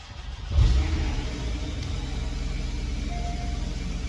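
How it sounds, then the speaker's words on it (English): A Porsche 718 Boxster S engine fires up after a short quiet moment, jumping to a loud burst at start and then settling into a steady, close idle rumble with no talking. "So I'm going to start it. We know it's got oil in it. Let's have a listen to it and see what it sounds like."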